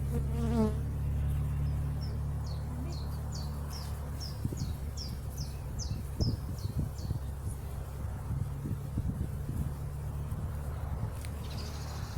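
Honeybees at an open hive drone in a close, continuous, dense buzz, while small birds chirp in a quick repeating series in the background.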